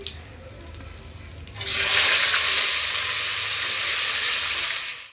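Pieces fry in oil in a pan for a mandi biryani. A quieter sizzle swells at about a second and a half into a loud, steady bubbling hiss that continues to the end.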